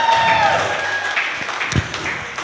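Applause from a gathered crowd at a circumcision feast celebration for the hosts, a brief burst of clapping at close range mixed with voices and room noise.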